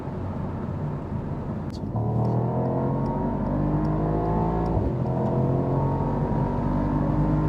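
A Mercedes-AMG SL55 accelerating hard at speed on the Autobahn, engine drone climbing steadily in pitch through the gears, a brief shift dip partway, with heavy wind and road roar throughout from inside the car.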